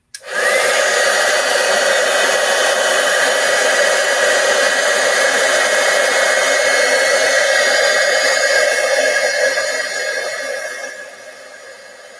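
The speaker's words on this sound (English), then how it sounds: "I grab my heat tool, and we're going to give this a little heat to melt our embossing powder" A heat tool melting embossing powder blows a loud, steady whoosh close by for about ten seconds, then winds down and fades as it is switched off.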